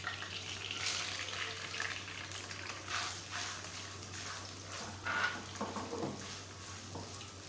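Onion frying in a pan for an aloo palak dish, giving a soft, continuous sizzle with occasional stirring swells, recorded quietly over a low steady hum.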